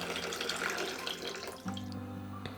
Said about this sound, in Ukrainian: вкидаю в кастрюлю, заливаю водою та ставлю варитись до готовності